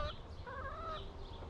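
Backyard chickens cluck softly in a small compost garden, a brief warbling call or two at moderate distance over quiet outdoor ambience, with no talk.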